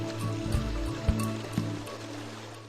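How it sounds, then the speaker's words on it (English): A full forest stream runs through a sacred grove toward paddy fields, its water rushing in a steady, moderately close wash with a few brief louder gurgles and splashes. "The stream in the forest is always full, flowing down to the lush paddy fields."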